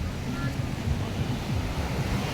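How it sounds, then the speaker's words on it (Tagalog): Sea surf rolling onto the shore at Ternate Beach Resort in Cavite, a steady, close, loud wash of breaking waves with wind buffeting the microphone and no pause. "Kasi ito na yung dagat."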